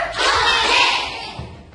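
An elementary school class clapping together in a short rhythmic pattern, a brief burst of many hands in unison filling the room before fading out.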